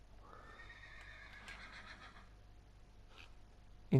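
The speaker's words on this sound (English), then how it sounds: "I suppose we could spawn a donkey as well." A donkey or mule in Minecraft neighs in a long, wavering bray with a second cry, heard alone in a stable build, followed by a loud thump at the end.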